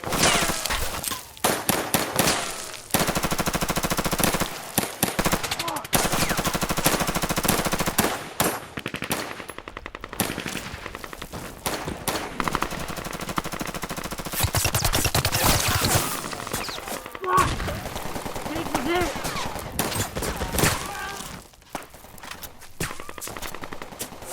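Gunfire in a staged action-movie scene with pyrotechnics: long loud bursts of rapid automatic fire broken by short pauses and a few single shots, with what sounds like breaking debris and no talking.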